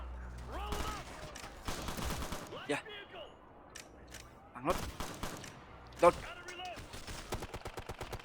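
A turret gun firing in Ghost Recon: Future Soldier, sharp repeated shots in scattered bursts that grow into a fast rattling volley, heard alongside other battle noise and someone talking.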